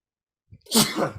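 A single sharp sneeze, close and loud, bursting out after a brief quiet intake of breath.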